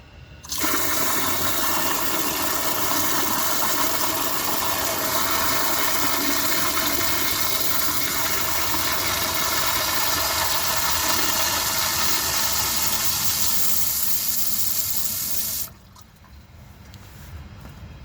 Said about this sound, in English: For the first flush test, let's see how it flushes with a dry bowl.